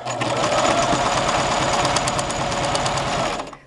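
A sewing machine stitches fabric squares together for patchwork placemats, giving a close, steady, continuous mechanical whir that runs unbroken for several seconds, with no talking.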